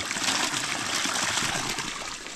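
Water flows from a bamboo irrigation pipe in a continuous, close, rushing trickle that splashes and gurgles evenly throughout with no pauses.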